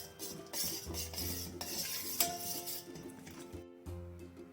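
A spoon stirs honey into butterfly pea flower tea in a pot, with a run of close clinks and scrapes of metal against the vessel and no voices.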